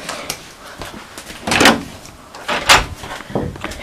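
Fire doors released by door holder magnets swing shut automatically, landing as two loud closing thuds about a second apart, with softer clicks and rattles around them.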